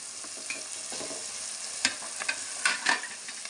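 Crushed shallots and ginger with a pinch of turmeric fry in hot oil with a dense, bright, continuous sizzle, with a few light scraping strokes near the end.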